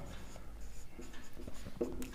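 A pen scratches out a probability formula on paper in a quiet classroom-style setting, a soft, irregular series of faint strokes and taps close to the microphone.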